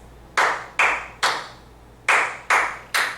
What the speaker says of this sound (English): clap the rhythm of the words